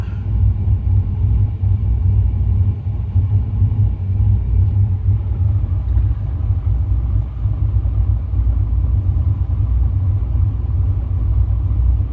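A 2004 Pontiac GTO engine idles at about 750 rpm, producing a steady, close, deep rumble that stays even for the whole stretch with no voices.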